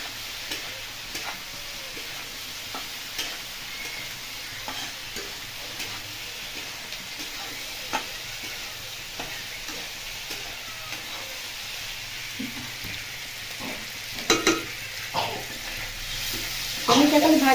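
Paneer pieces fry in a pan on their second side, giving a steady low sizzle throughout with occasional clinks and stirring knocks, louder bursts near the end.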